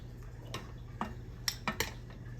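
Metal whisk clinking against a bowl as hot milk and sugar mixture is beaten into egg yolks for a German chocolate cake, a few sharp close taps over a quiet background hum.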